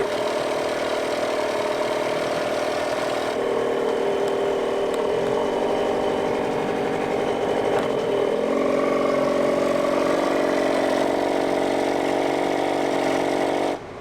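A sailboat's engine runs at its lowest revs in forward gear, giving a steady, loud, close mechanical idle with a constant rhythmic chug that shifts slightly in tone partway through, with no talk, before cutting off at the end.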